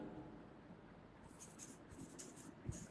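Chalk or marker scratches across a classroom board in soft, faint strokes during a lesson, with light scraping that is close but quiet.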